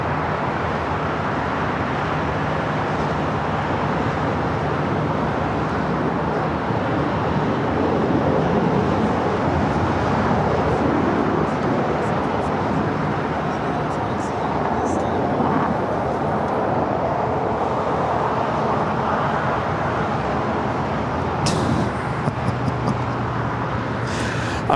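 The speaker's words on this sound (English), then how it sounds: "There she is, Flo the Flamingo. Coming in from Orlando in this A320 Neo" Airbus A320neo in flamingo livery arriving at LAX from Orlando, a steady broad jet roar that holds loud and constant throughout, with faint distant traffic beneath.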